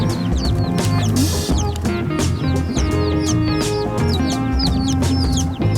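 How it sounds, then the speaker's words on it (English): A box of newly hatched chicks just collected from the post office gives off a dense, continuous chorus of high, rapid peeps, many birds calling over one another at close range with no talk. "What do you think about those chickies?"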